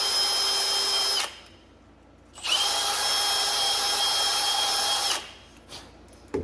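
A power tool whirs in two bursts, about one second and then nearly three seconds long, with a high motor whine, while copper pipe and fittings are cleaned before soldering.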